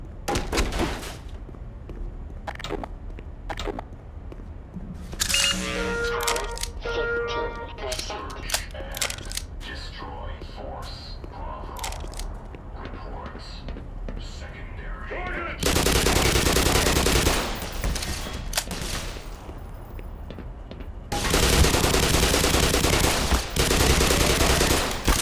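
Gunfire in the video game Black Mesa: bursts of automatic fire and single shots rattle through the scene, growing into dense, loud sustained volleys in the latter part, with a voice speaking over the early shots.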